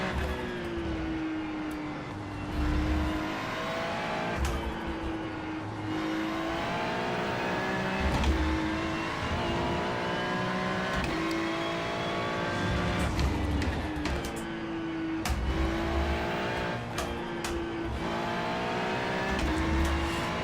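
Ferrari and Porsche race cars lapping Mugello in the iRacing sim, engines droning steadily with rising and falling revs through gear changes, several cars close together throughout.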